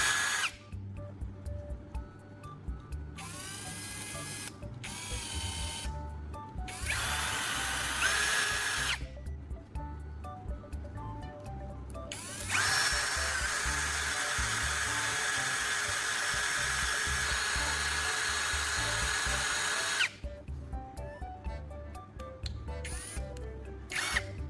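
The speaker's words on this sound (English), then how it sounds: "I'll sharpen one end of the battery core." A small power tool sharpens the end of a battery core in bursts: high-pitched whining spin-ups that run for a few seconds, stop briefly, then start again, with one long sustained stretch in the middle.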